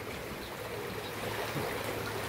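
Steady rushing of floodwater flowing around a house after heavy flooding, a continuous close wash of water with no pauses and no voices.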